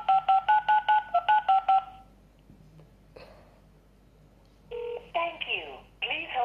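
Two telephones dial at once, giving a quick run of about eight clipped keypad tones, then a pause and a brief burst of further tones and beeps, with faint background noise between.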